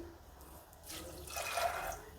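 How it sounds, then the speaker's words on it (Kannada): Water is poured into a pot of soaked chickpeas, with salt and baking soda added, before pressure cooking; a soft splashing pour builds up in the second half after a quiet start. "ಈಗ ಕಾಳು ಮುಳುಗುವಷ್ಟು ನೀರು ಹಾಕಿಬಿಟ್ಟು ಬೇಯಕ್ಕಿಡೋಣ"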